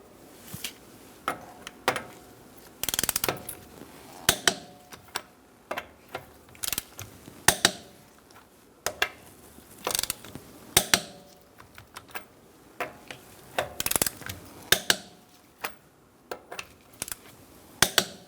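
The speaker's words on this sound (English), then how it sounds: "Using a 19mm socket, we're going to torque our wheels to 100 foot-pounds" A 19mm socket wrench tightening wheel nuts on a 2012-2018 Ford Focus, a series of close metallic ratcheting clicks and clanks in irregular bursts, with sharp taps between them.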